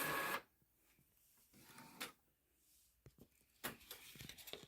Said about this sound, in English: Okay, so it's coming out of the printer here.